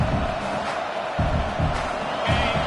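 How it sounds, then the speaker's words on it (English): Crowd noise fills a college football stadium during a Florida versus Oklahoma game, a steady roar with surges of cheering while the defense holds in the red zone, with voices mixed into the din. "the crowd coming to life here, trying to help this defense down in the red zone"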